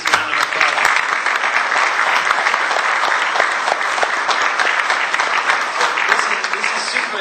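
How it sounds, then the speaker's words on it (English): A conference audience breaks into sustained applause for a speaker, a dense, even roar of clapping hands that holds steady and loud throughout with no voices rising above it. "Please, round of applause."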